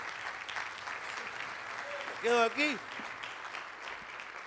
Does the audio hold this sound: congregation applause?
yes